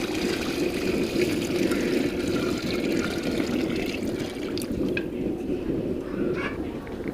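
Six kilograms of water poured steadily into a large cooking pot for chana pulao, a continuous rushing splash that holds at an even level throughout, close and fairly loud.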